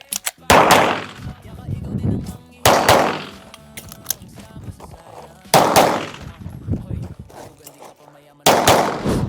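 Four loud, sharp gunshots ring out at roughly two-to-three-second intervals at a shooting range pavilion, each a close blast with a ringing tail, with quieter clatter between the shots.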